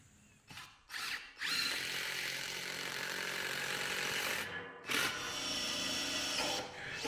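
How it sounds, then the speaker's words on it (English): A power drill bores bigger holes through pole barn roof truss headers for 7/16 bolts: two short whirring bursts, then a long sustained drilling run, a pause, and another extended run, close and fairly loud. "We're going to drill some new holes here and here that are bigger"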